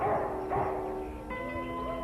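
Sled dogs of a team bark and yip in a few short bursts, fairly close, followed by a higher whining tone near the end.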